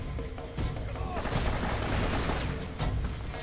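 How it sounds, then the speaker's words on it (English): Gunfire and explosive bursts from a grenade launcher battle in the video game Uncharted, dense loud crackling shots and booms layered with continuous game noise and a voice talking over it. "This time, though, I do have the grenade launcher"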